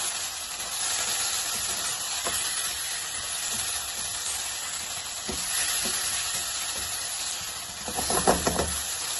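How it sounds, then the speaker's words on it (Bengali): Mushrooms and already cooked chicken sizzle and hiss steadily in a hot pan with garlic and onion, with occasional stirring clinks and a louder burst of frying near the end. "এখন আমি মাশরুমটা দিয়ে দিব, চিকেনটা দিয়ে দিব"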